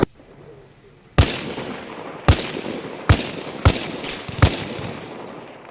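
Five loud, sharp blasts crack out at uneven intervals, each followed by a rumbling decay, explosions and gunfire in the video game Arma Reforger over a low background hiss.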